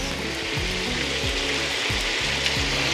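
Olive oil sizzling loudly in a pan ahead of sautéing vegetables, a dense continuous crackle with rhythmic low thumps underneath.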